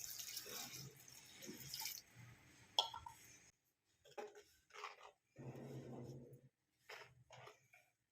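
Water poured from a vessel into a pot of Kerala-style clam meat curry and stirred in, giving short splashing and sloshing bursts separated by quiet pauses, close by.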